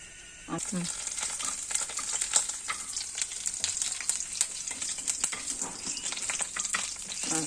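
Crushed garlic and curry leaves frying in hot oil, a sudden loud sizzle that bursts in as they hit the pan and then crackles continuously and closely to the end.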